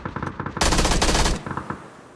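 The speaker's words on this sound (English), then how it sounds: "you got another team shooting at you" Enemy gunfire in PUBG on the Vikendi map: rapid automatic rifle bursts, first a crackling string of shots, then a louder dense volley, then scattered single cracks trailing off, fairly close and alone without talk.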